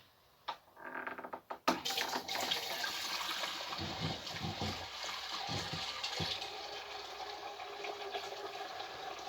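Water is poured from a height to top up an Air Still distiller for a sugar wash, with a few clunks at the start, then a steady splashing gush that carries on to the end.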